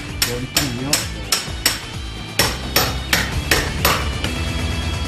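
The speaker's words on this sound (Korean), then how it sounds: "그리고 벽을 뚫는 작업이 시작된다" Repeated hammer blows strike a house wall to break a hole for a large stovepipe, sharp metallic impacts landing in an uneven, steady rhythm, close and loud.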